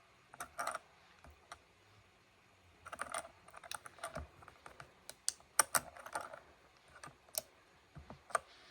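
Typing on a mechanical computer keyboard, close and quiet, with bursts of crisp clicky keystrokes separated by short pauses and occasional louder key hits, no voices.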